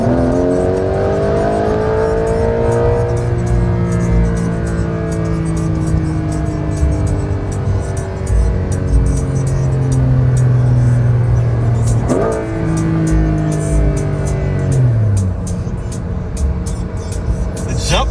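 Porsche 911 GTS T-Hybrid engine accelerating hard through the gears, the tone rising steadily and dropping at each shift, heard from inside the car with a continuous loud drone.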